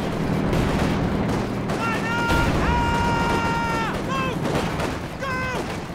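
Gunfire in the Company of Heroes 2 video game, with the Spearhead mod in a German versus German 2v2 match: dense crackling bursts of battle fire run throughout under a steady game din, with tonal game effects overlaid and people talking.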